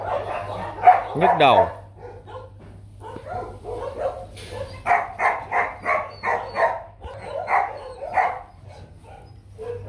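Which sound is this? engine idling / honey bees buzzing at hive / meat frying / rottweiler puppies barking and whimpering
rottweiler puppies barking and whimpering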